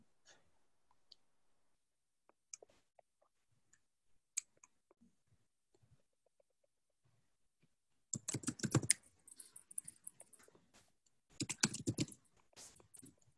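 Typing on a computer keyboard during an educators' workshop, heard as two dense bursts of rapid key clicks after a mostly quiet stretch with scattered faint taps.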